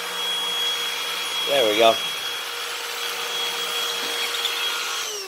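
A Black+Decker 20V Max cordless 2-in-1 stick vacuum cleaning a floor, a steady close motor whine running throughout at even loudness, with a brief spoken phrase partway through.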